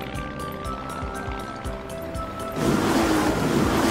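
A cartoon seaplane touches down on the sea in a children's animated show: light rhythmic music plays, then a loud, sustained rush of water and surf noise takes over for the final second and a half.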